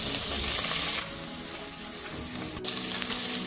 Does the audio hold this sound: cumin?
yes